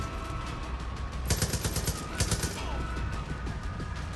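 Gunfire in Far Cry 5 comes in two rapid bursts of sharp cracks over a steady, busy game background.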